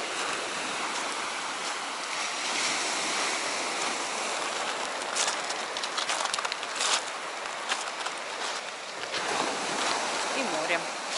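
Sea surf rolls onto a pebbly, shell-strewn beach along the Zelenogradsk promenade, a continuous broad wash of waves mixed with gusting wind, heard from a short distance at a moderate level.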